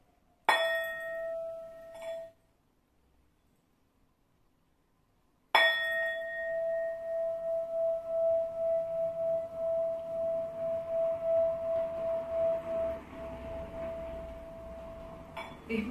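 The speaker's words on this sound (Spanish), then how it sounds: "Vamos a utilizar el cuenco hoy." A singing bowl is struck twice; the first strike rings briefly and stops, then a second strike sustains a clear, pure ringing tone that slowly wavers and fades over many seconds.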